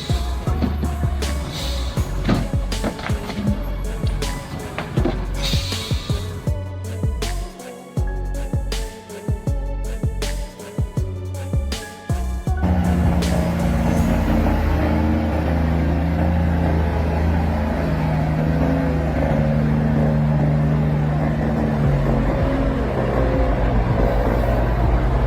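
Heavy truck loaded with wood labours up a steep mountain road, its engine droning loud and close with a steady low rumble, earlier mixed with sharp clattering and knocking bursts.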